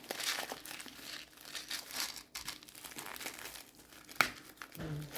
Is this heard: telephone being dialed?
no